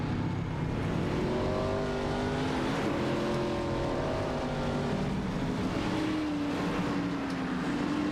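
A pack of race cars rolls through a formation lap at Motegi in a racing video game, engines droning steadily with wavering tones, continuous and fairly loud throughout.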